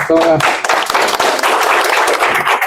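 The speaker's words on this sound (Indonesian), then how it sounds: "Tepuk tangan dulu" A short burst of audience clapping in a newsroom gathering, with a voice speaking briefly at the start over the claps.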